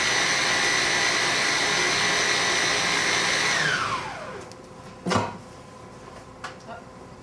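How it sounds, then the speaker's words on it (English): An electric mixer beats angel food cake batter at high speed with a loud steady whir, then winds down and stops partway through, leaving quiet room sound with a couple of faint knocks. "at this point I'm beating it just till I see very little streaking"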